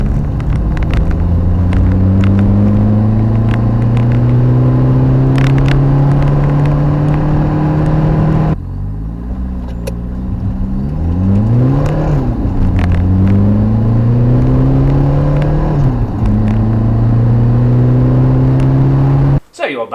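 Standard Peugeot 205 with a 1.9 turbo diesel engine accelerating from 30 to 70 in third gear, a loud close engine drone rising steadily in pitch, easing briefly midway before climbing again, with no talking.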